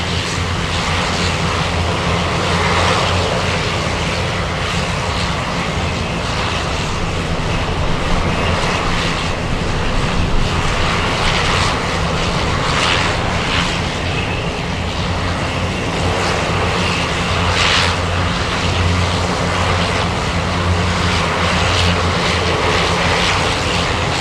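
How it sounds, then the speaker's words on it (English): Alaska Airlines Boeing 737 MAX 9 from Minneapolis landing in a strong crosswind at Anchorage, a loud, close, unbroken engine roar that stays steady throughout, with no voices. "we have the Alaska 737 MAX 9 flying in from Minneapolis"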